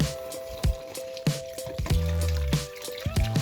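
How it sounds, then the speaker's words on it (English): Cream poured into a pan of mushroom Alfredo sauce, giving soft wet squishes and drips with a few sharper clinks, close and moderately loud, over a steady low hum. "Go ahead and add your cream now"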